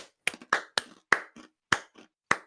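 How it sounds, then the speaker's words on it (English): A slow round of hand clapping, about seven sharp, separate claps spaced unevenly over a couple of seconds, close and clear with no voices. "let's get a slow clap for Tim"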